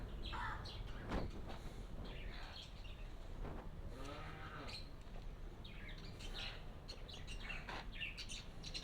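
Parrots at a cremation ground chirp in quick, scattered bursts, some near and some farther off, over a steady outdoor background hiss.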